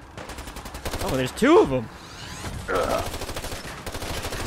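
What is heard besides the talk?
gunshots in the video game Fallout 4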